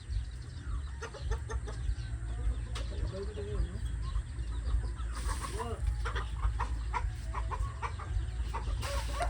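Farm chickens cluck and chatter repeatedly nearby, with scattered sharp calls and some background voices mixed in.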